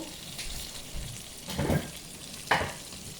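Chopped onion tipped into melted butter in a pan, with a low background sizzle and a few bursts of louder frying and stirring as the pieces hit the hot fat, close and without speech.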